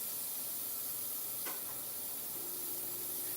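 A small-tank air compressor runs in a tattoo studio during airbrushing of a dog portrait, giving a soft, steady hiss with a brief sharp tick midway.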